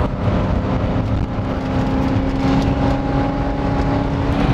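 A Mercedes-Benz 500E W124 engine heard from inside the car while driving, a steady, muted, continuous drone with a low rumble that holds evenly throughout.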